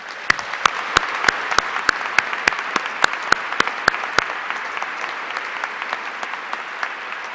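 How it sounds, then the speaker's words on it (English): Guests at the AIAA 2017 Aerospace Spotlight Awards banquet give a round of applause, the crowd's clapping sustained and fairly close, punctuated by crisp individual claps. "And I propose just give them a little round of applause."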